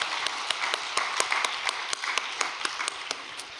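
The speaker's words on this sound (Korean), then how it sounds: "우리 참어머님께 감사와 영광의 박수를 올려드리면 고맙겠습니다." Scattered, uneven clapping from a small audience at a Korean religious gathering at Cheongpyeong holy ground, with sharp individual claps standing out over a thin wash of hands, fairly close and without talk.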